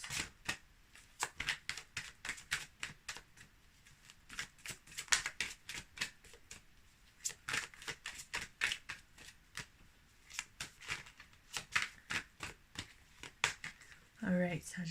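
Tarot cards are riffled and shuffled up close in a quiet room, producing dense rapid flurries of crisp papery slaps and clicks in uneven bursts, ending with a brief soft rustle.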